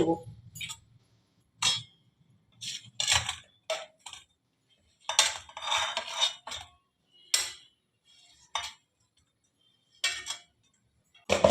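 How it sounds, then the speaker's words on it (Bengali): Intermittent clinks and light metallic taps as pieces of fried paneer are placed into a metal tiffin box, short bursts separated by quiet pauses. "এবারে আমি নামিয়ে দেব এই টিফিন বক্সটার মধ্যে"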